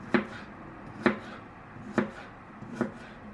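Garlic cloves being chopped with a knife on a board while making stuffed bell peppers: four sharp, evenly spaced knocks close up, with no voices.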